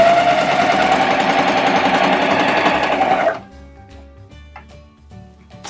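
A coverstitch machine stitches a strip of leftover binding in one loud, steady whirring run that stops abruptly after about three seconds, followed by quieter handling clicks and taps.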